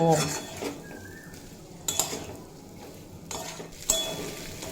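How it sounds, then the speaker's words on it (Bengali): Fried young jackfruit is sautéed with spices in a pan, and a spatula scrapes and clinks against the metal in several distinct strokes over a low background sizzle. "ভেজে রাখা এঁচোড় দিয়ে মশলার সাথে খুব ভালোভাবে কষিয়ে নেব"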